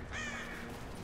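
A single crow-like caw rings out briefly in the Rise of the Tomb Raider game world, a moderately loud call standing alone over a steady ambient hum.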